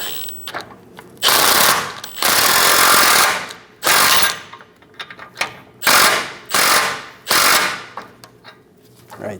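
Ratchet snugging a lower control arm bolt on a 2001-2006 Chevrolet Silverado 2500 HD, loud bursts of rapid clicking repeated in several strokes with short pauses between, close by.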